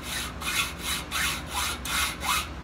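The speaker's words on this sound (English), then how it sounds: "So I took this 5/8 inch threaded rod and this 3/4 inch ionized aluminum tube and cut two equal" Someone saws through 5/8 inch threaded rod and 3/4 inch anodized aluminum tube with about five even back-and-forth strokes, each a loud, close rasping pass. No one talks.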